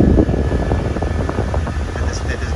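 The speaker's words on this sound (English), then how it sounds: "this functions perfectly. Like I said, the AC just needed that bearing" The air conditioning runs inside a 1967 Pontiac GTO with a four-speed, a steady loud blowing roar with engine hum underneath, continuous and close.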